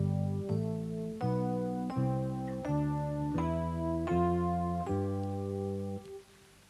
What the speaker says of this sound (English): The other mode which is used most commonly in rock is the Mixolydian mode